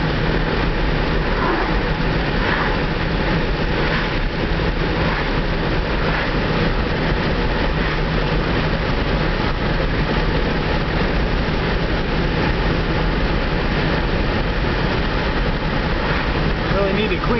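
A car driven in fourth gear while accelerating after a full drivetrain removal, repair and reinstallation, with a continuous loud engine drone and road rumble heard from inside throughout.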